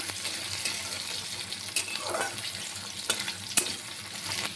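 Salted potato pieces frying lightly in a pan at home, a steady close sizzle with occasional stirring scrapes and a few sharper clinks, no talking.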